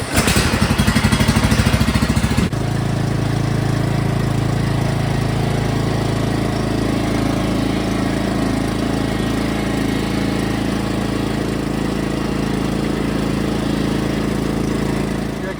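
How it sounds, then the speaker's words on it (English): A lawn mower engine runs steadily while the mower is loaded onto a trailer. A harsher burst in the first couple of seconds settles into an even, loud drone close by. "So let's load the mower up."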